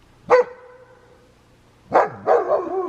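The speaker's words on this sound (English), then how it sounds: "Pup's responding to coyotes." A dog on a farm barks at coyotes once nearby, pauses, then gives two more quick barks, loud and sharp against a quiet background.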